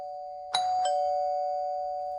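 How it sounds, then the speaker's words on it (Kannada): A single two-tone doorbell chime, ding then dong, rings clearly in a quiet room, its tones lingering and slowly fading. "ಅಷ್ಟೊತ್ತಿಗೆ ಮನೆ ಡೋರ್ ಬೆಲ್ ಆಗುತ್ತೆ"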